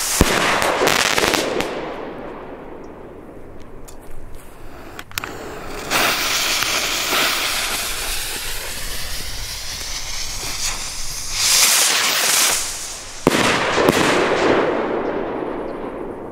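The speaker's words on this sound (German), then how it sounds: "Das sind Raketen mit einem farbigen Bouquet und einem besonders kräftigen Knall." GAO R-15 fireworks rockets with colored bouquets and an especially powerful bang, heard as repeated loud hissing launches and sharp booming bursts over about sixteen seconds, with crackling tails and no talk.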